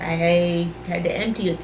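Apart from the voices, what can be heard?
None of the usual background noises is heard.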